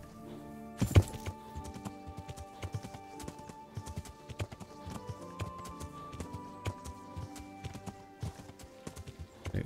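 Horse hooves clip-clop in the medieval video game Kingdom Come: Deliverance, a steady close rhythm of hoof strikes over a soft game ambience, with one sharp louder hit near the start.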